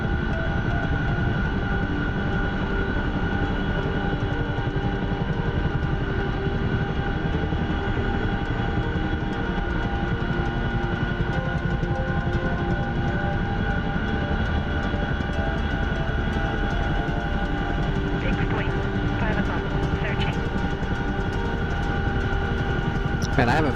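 An A-model A-10 ground-attack jet flies steadily along a coastline in a combat game, its engine drone loud and constant throughout with no break.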